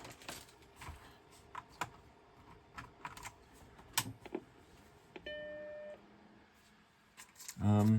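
Keys clatter on a vintage computer keyboard in irregular bursts of sharp clicks, with a short electronic beep tone partway through and a louder thump near the end.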